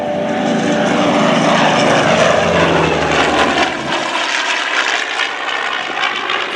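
An A-1E Skyraider propeller aircraft flying at an airshow, a loud droning radial-engine roar passing close by, then fading a little as it moves away.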